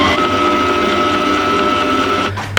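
Electric whisk beating egg yolks with flour for a pound cake batter, a steady loud whirring motor drone with a brief knock near the end.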